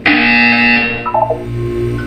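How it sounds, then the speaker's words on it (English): A loud electronic buzzer from the video game Portal 2, sounding once as a steady harsh tone for about a second before fading into a softer lingering tone, alone without talk. "You will hear a buzzer."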